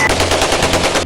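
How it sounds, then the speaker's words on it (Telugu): Gunshots fired into the air in a rapid burst at the Medaram Sammakka Sarakka tribal jatara in Telangana, loud close reports in quick succession resembling machine-gun fire, with no voices. "గాల్లోకి పేలిన తుపాకీ తూటాల చప్పుడు"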